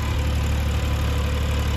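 A tractor engine drones close by in a steady, low, even rumble with no voices.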